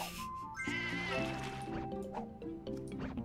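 Cartoonish sheep bleats from the mobile puzzle game Divide by Sheep, several wavering calls overlapping in quick succession alongside watery dripping game effects, clear and close.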